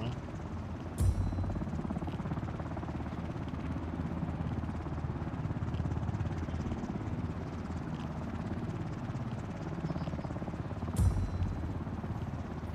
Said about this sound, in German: Der Hubschrauber dämpft jetzt halt auch super viele Geräusche